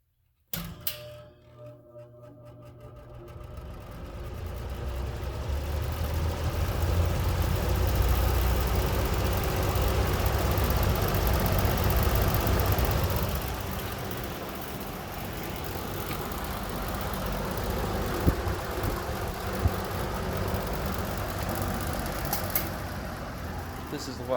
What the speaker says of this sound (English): it's a really old 3-bladed box fan